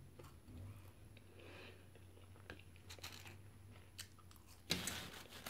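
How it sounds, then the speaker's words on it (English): Faint, close crunching of a crisp McDonald's french fry being chewed, several soft bites in an irregular rhythm, ending in a louder burst of noise. "there's one crunchy french fry"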